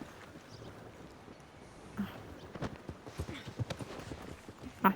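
Hooves of a donkey walking in the Red Dead Redemption video game give a faint, uneven clip-clop that begins about halfway through over a quiet outdoor ambience, with a louder step at the end.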